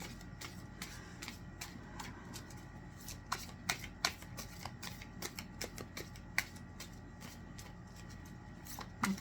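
Oracle cards being shuffled for a reading give a soft, steady riffling with irregular sharp card snaps and flicks, close and quiet, with no voice over them.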